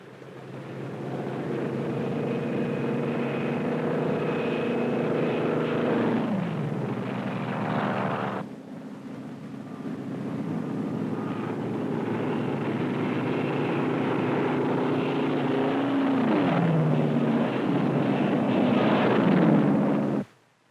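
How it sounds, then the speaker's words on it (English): Loud, steady aircraft engine roar of drone aircraft launched from a carrier during Operation Crossroads nuclear tests fills the whole stretch, with a brief dip partway through and wind-like rumble underneath, no voices. "the drone aircraft are launched and temporarily guided from the carrier"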